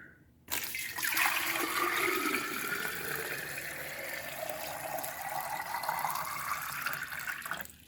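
Water pours steadily into a glass jar, a continuous rushing gush that begins abruptly and runs for about seven seconds, its pitch slowly shifting as the vessel fills, then cuts off.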